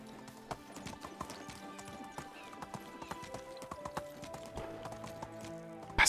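A horse's hooves clip-clop at a quick galloping pace in the medieval game Medieval Dynasty, steady rhythmic thuds close and moderately loud, with no talking.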